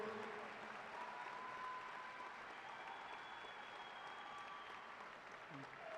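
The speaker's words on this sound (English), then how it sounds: "How about another big round of applause for our graduates?" An audience at a university fall commencement applauds the graduates, a faint, steady roar of distant clapping filling the hall, with a few voices and cheers mixed in and a slight fade toward the end.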